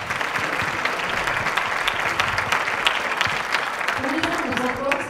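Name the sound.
audience applause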